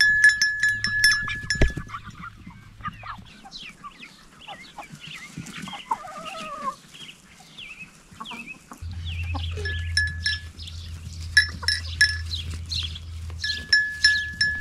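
Goats bleat repeatedly among clucking chickens and other farm birds on a mountain farm, the calls scattered and overlapping at moderate distance over a low hum.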